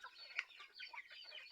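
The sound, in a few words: chickens clucking while feeding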